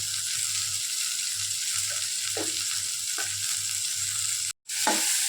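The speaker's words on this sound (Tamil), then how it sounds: "இந்த தக்காளி நல்லா வதங்கிறதுக்கு நம்ம ஒரு சிட்டி உப்பு போடணும்" Tomatoes with a pinch of salt sauté in a pan for paneer gravy, making a continuous close sizzle with a few soft spoon scrapes and one brief dropout near the end, with no voices.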